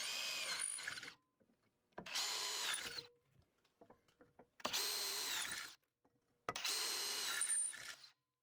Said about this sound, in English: Use the tools at your disposal to cut out the new defrost holes for the driver and passenger.